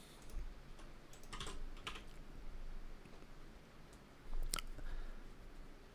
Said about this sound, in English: I type very lightly, and I just miss keys all the time.